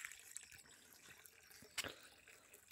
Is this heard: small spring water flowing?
yes